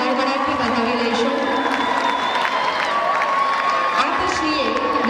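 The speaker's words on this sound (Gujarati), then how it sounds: "આપણે સૌ તેમને તાળીઓના ગડગડાટથી વધાવી લઈશું" Crowd at an annual school function breaks into loud, sustained applause with cheering and children's shouts, filling the hall continuously from start to finish.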